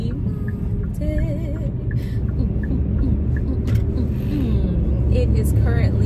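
Steady low rumble and hum of a car cabin while driving through town streets on a Monday morning, with faint traffic and passing vehicle noise outside.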